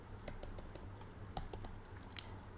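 Computer keyboard keys clack in quick, irregular bursts of single taps while Python code is typed, close and fairly quiet over a steady low room hum.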